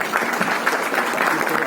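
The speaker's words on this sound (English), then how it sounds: "Please welcome with a round of applause." An audience at a government event releasing a car safety rating programme applauds steadily to welcome a speaker, a dense, even wash of clapping that holds at a constant level throughout with no talk over it.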